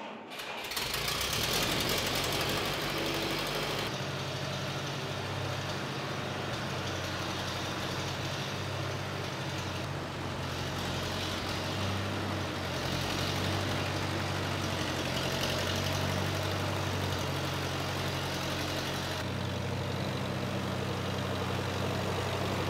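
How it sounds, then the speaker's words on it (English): A low, steady Allis-Chalmers tractor engine idles continuously while warming up in snow, with a constant rumbling drone and a faint mechanical hum, holding nearly the same level throughout. "we're gonna let the tractor warm up for about 10 minutes"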